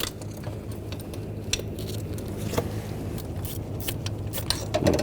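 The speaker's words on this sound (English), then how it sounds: "Now I'll take the screws out from the front, use the T30 socket." Screws come out of the front of a 2009-2017 Volkswagen Tiguan engine with a T30 socket, giving scattered close metallic clicks and rattles over a steady low hum, with no talking.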